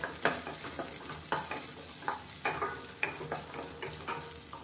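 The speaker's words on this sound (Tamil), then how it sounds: "சின்ன வெங்காயம் சேர்த்துக்கலாம்" Small onions sizzle in hot oil while being tempered for a South Indian side dish, with a spoon scraping and stirring the pan in repeated strokes over the constant close frying hiss.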